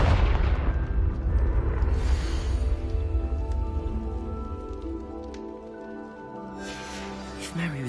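Confringo spell blast in Hogwarts Legacy, a loud, sustained, rumbling explosive roar that fills the whole stretch and then thins into a ringing tail, with a second burst near the end.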